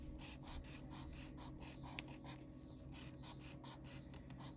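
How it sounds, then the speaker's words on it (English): A Sharpie marker squeaks and rubs across paper while outlining a drawing, close up, in repeated short strokes with a steady rhythm and no talking. "you're going to outline with Sharpie or a black pencil or a black pen."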